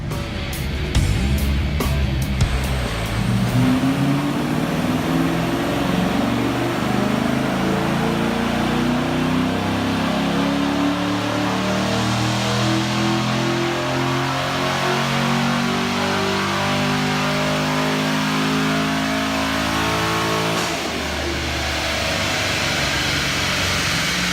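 A flex-fuel car running on E85 ethanol blend during a tuning session, its engine revving in one long, loud, steady climb that rises in pitch for about seventeen seconds before cutting back sharply, heard close with no voices.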